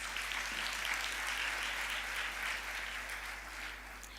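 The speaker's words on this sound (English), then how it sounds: "Give yourselves a round of applause." Graduates at a university health sciences and law graduation ceremony applaud themselves, a broad wash of many hands clapping in a large hall, sustained and even before tapering slightly, with a low steady hum beneath.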